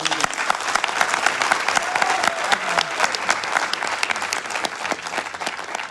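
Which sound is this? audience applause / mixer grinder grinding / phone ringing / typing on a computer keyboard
audience applause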